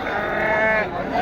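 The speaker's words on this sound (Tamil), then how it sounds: "எல்லாம் வெட்டாடுங்க, செம்மறி ஆடுங்க." At a sheep market in Pochampalli, a sheep gives a single close, wavering bleat over a low murmur of voices.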